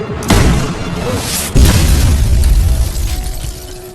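A loud explosion bursts out in the film The Marine 4, then a second heavy boom follows about a second later, each rumbling and crackling as it fades.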